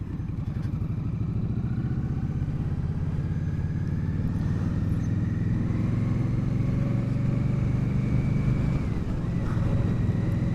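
A 2021 Indian Motorcycle Scout Bobber rides at low speed on a side street, its engine a steady loud droning rumble with shifting tones and wind noise throughout.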